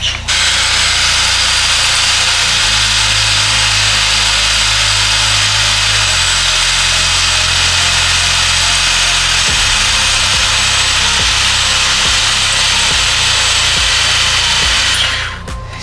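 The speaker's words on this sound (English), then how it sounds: "This one's cutting through easier because I don't think the bushing's in the way of the bolt on this one." A power tool cuts through a bolt on the rear axle of a 1969 Mustang. It runs as a loud, continuous grinding whine for about fifteen seconds, and its pitch shifts a few times as the cut progresses.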